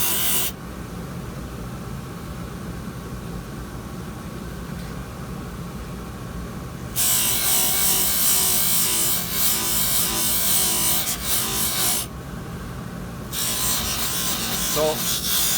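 Polishing wheel buffing a case held close by hand, a steady loud rasping whir that grows harsher in bursts as the case is pressed in, running continuously throughout.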